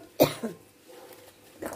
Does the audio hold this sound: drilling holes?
no